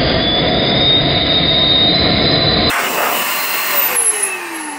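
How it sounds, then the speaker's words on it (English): An XPower A2 electric air duster with a bristle brush attachment blows a loud, steady whooshing, high-pitched whine near a MacBook Pro with its bottom cover off; midway the tone shifts sharply as the airflow changes, then holds on alone. "I'm going to go ahead and try out the little bristle brush here on the air duster."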